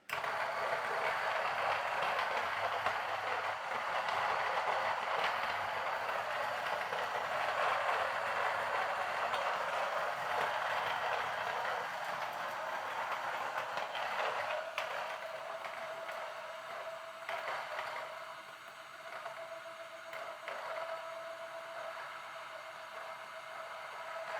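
A burr coffee grinder runs continuously, grinding beans at setting 50 for pourover, a steady close whirring grind that eases slightly toward the end, with no talk.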